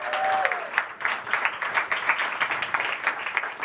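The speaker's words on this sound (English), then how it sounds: "Give that a round of applause." An audience at a food system funder summit during London Climate Action Week claps steadily and fairly close, a dense wash of applause that holds for a few seconds without letting up.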